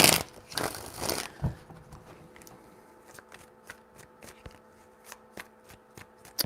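Tarot cards are shuffled by hand, a dense riffling burst at first, then a series of sharp, separate card snaps and taps spaced out, close and clear with no talking.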